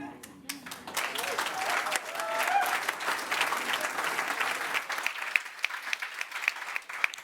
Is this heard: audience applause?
yes